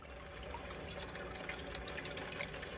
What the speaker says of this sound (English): And then the water gravity feeds down, and that's how all of the little cubes stay watered.